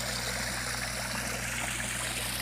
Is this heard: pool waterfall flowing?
yes